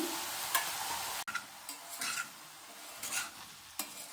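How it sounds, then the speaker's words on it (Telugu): Ridge gourd and prawn curry cooking in a pan, a quiet sizzle with occasional spatula stirs and scrapes, one brief clunk early on, no voices. "మధ్య మధ్యలో కలుపుతూ ఇలా దగ్గరగా ఉడికించుకోవాలి"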